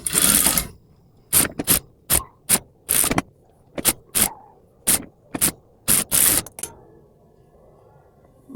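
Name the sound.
sewing machine stitching a baby party dress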